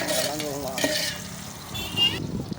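Onions sautéing in a pan give a soft continuous sizzle with stirring scrapes, while a voice talks intermittently over it.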